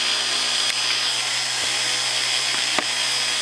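Sampojo quad Pentium asymmetric electric motor running on one brush set, a steady high-pitched whine and buzz with a constant low hum, broken by a few faint clicks, continuous and close.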